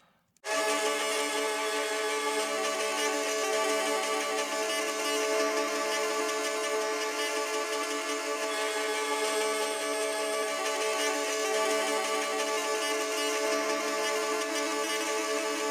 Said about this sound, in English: The poly works basically like you're tremoloing 2 notes at the same time.